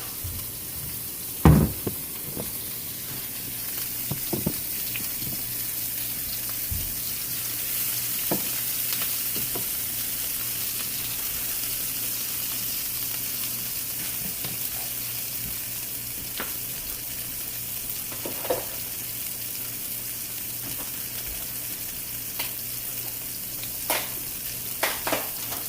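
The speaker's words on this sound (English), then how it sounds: "Now I'll take this and I'll drop it in the pan." Meat frying in a pan at home for a carnivore dinner, a steady soft sizzle throughout with occasional sharp knocks and clinks of utensils against the pan, no talking.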